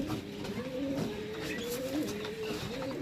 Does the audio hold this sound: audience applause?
no